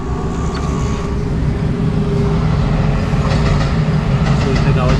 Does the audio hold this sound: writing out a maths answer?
no